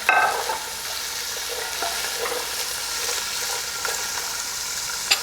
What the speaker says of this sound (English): So now what I'm going to do is I'm going to add all of my vegetables